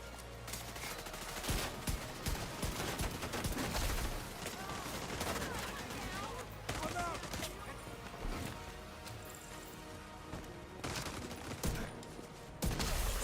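Pistol gunfire in The Division 2 crackles through a busy game firefight, with sharp shots and bursts of other weapons mixed over a dense background of effects and music.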